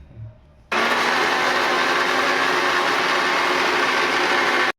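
A kitchen mixer grinder starts abruptly after a brief quiet moment and runs at a steady, loud whine while grinding the spiced besan mixture for aloo wadi.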